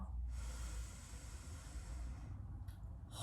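A slow inhale through the nose during a standing mobility breathing exercise: one soft, airy breath lasting a few seconds, close and quiet, with no talk.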